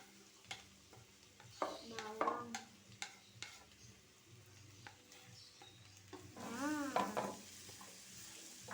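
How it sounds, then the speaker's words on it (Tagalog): Garlic frying in melted butter for buttered shrimp, a faint close sizzle broken by scattered spatula scrapes and taps, with a brief wavering tonal sound near the end. "nag-melt na yung butter natin, kaya ilagay na natin ang garlic"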